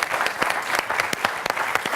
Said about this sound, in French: 2 points également pour Alain, qu'on peut applaudir.